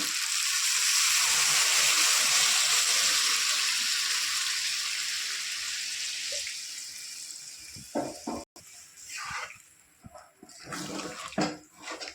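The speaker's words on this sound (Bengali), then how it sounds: "দিয়ে দেবো পরিমাণ মতো জল" Water is poured into a hot pan of chicken kosha curry, making a loud steady hiss and sizzle that gradually fades, followed by a few clattering knocks and stirring sounds.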